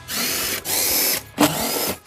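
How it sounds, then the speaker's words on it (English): A power driver fitted with a T30 Torx bit whirs in three short bursts while backing out cargo hook screws in the cargo area of a 2019-2023 Audi e-tron SUV, close and fairly loud, with no speech. "We're going to use a T30 Torx bit to remove 4 cargo hooks."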